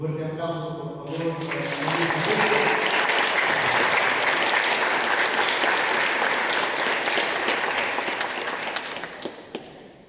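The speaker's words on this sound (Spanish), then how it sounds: "Un fuerte aplauso, por favor." Loud, sustained applause from a crowd at a wedding in Lima, swelling after a brief moment and holding steady for several seconds before tapering off.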